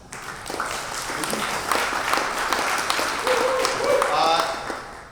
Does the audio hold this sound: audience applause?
yes